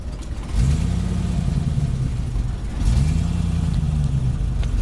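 Car engine idling then revved twice, each blip rising and easing back down, close and loud against a steady rumble with no talk.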